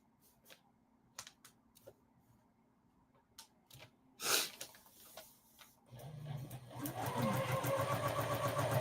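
A sewing machine stitches foundation paper-pieced log cabin quilt blocks. It starts with scattered soft clicks and a short whir, then runs into a louder, steady mechanical hum of stitching.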